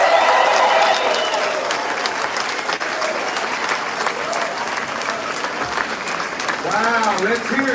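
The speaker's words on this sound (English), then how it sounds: "Another round of applause" Large crowd applauding at a ship naming ceremony after a national anthem performance, sustained loud clapping and cheering with a voice speaking over it.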